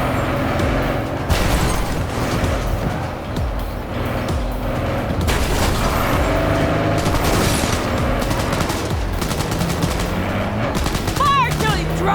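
Gunfire in the Cyberpunk 2077 video game, rapid bursts of automatic shots layered over a car engine and booms, loud and continuous during a vehicle chase.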